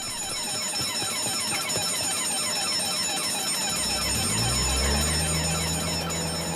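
An automatic alarm rings continuously through the grounds of an estate during a painting theft, a steady loud electronic tone running the whole way, joined by a lower droning sound in the final seconds.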